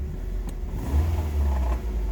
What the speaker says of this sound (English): the catalytic converter is rattling